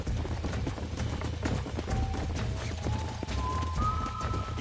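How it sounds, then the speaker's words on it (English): Horses gallop in the video game Red Dead Redemption, a dense, rapid clatter of hooves in a busy outdoor scene with a rising tonal sound layered over the pounding. "There's the horses!"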